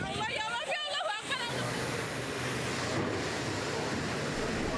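Strong wind in a storm that tore roofs off houses in Pekalongan roars steadily and loudly, with raised voices heard briefly at the start.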